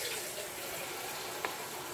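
Tap water runs steadily into a tin to rinse it out while cooking a vegan aubergine curry, making a continuous close hiss and splash with one small knock near the end.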